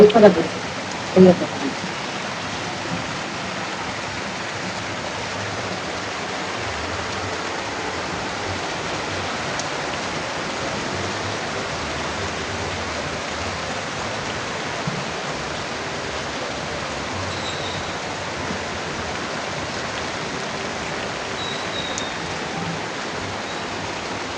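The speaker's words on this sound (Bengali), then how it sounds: "আকাশে মেঘ হালকা, কিন্তু বৃষ্টি যেমন পড়তেছে।" Steady rain falls throughout, a constant soft hiss with a couple of brief knocks near the start.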